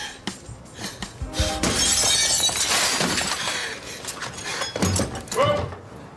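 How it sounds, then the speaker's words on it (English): A real glass window smashes during a television soap stunt, a loud sharp shatter with bright crashing shards that spills into rattling debris and scattered clinks, with voices murmuring around it. "So she actually broke a real window."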